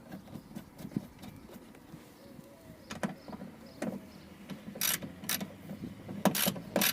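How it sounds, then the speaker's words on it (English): Hand tools tightening bolts on a crash/jacking bar fitted to a Mazda MX5, with intermittent metallic clicks and ratcheting taps, some sharp and close, over low background noise. "and then do up the bolts."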